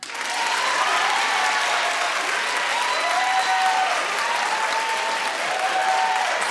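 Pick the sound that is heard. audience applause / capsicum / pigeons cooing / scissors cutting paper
audience applause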